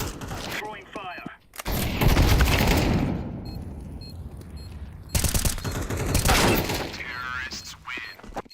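Rapid bursts of gunfire and explosive bangs from Counter-Strike combat, loud and dense in two main volleys with short gaps, while a player's voice talks over the action.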